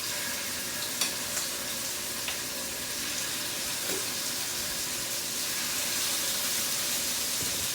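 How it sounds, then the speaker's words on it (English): Food sizzles steadily in a hot skillet, a continuous crackling hiss with a few faint clicks and taps. "It's important that they sizzle."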